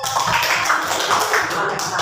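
A class claps for group 5 during a middle-school mathematics lesson. A steady patter of many hands carries through the whole moment, close and fairly loud.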